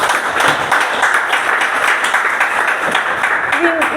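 Applause breaks out at a discipleship training session, a steady dense wash of clapping filling the room from start to finish, with a faint voice or tone showing briefly near the end.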